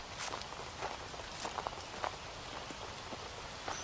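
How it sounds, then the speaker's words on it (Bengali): Footsteps walk steadily through a light drizzle as a horror-story sound effect, the soft patter of rain forming a constant bed under irregular crunchy steps at moderate distance. "আকাশ থেকে ঝিরি ঝিরি বৃষ্টি পড়ছে। বৃষ্টির মধ্যে হেঁটে চলেছে"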